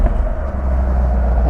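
Deep, steady engine rumble from a 2023 Chevrolet Camaro SS 1LE, a low idle drone held close and even throughout with no voices.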